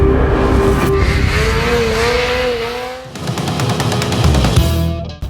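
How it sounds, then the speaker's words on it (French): A Polaris Indy 600 XC two-stroke snowmobile engine drones steadily, pitch rising and falling, then revs up into a rapid, buzzy rattle before cutting off near the end. "Polaris Indy 600 XC, un petit bolide le fun, un petit bolide vraiment qui est agréable à conduire."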